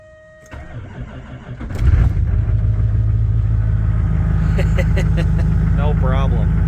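A high-mileage LLY Duramax diesel cranks and fires in -2°F cold, then settles into a loud, steady rumbling idle with some knock, while people talk faintly over it.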